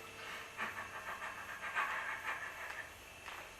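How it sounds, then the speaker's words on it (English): A person doing a dog-panting voice exercise for stretching the throat, quick rhythmic breathy huffs repeating steadily at a faint, close level. "Another exercise for stretching the throat muscles naturally is the dog panting exercise"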